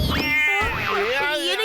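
A cartoon cat lets out a loud, close, drawn-out meow that wavers up and down in pitch for under two seconds, with a caterwauling, voiced quality.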